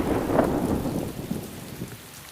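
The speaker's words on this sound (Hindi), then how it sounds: "बारिश हो रही है।" Heavy rain pours down steadily during a storm, with a low rumble of thunder rolling through the dense hiss, loud and close throughout.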